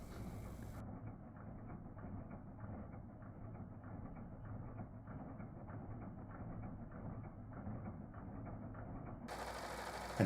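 A Singer 14SH754 serger runs at high speed, sewing a rolled hem on chiffon. It makes a steady, dense mechanical chatter that lasts most of about nine seconds, close and even, with brief different sounds at the start and end.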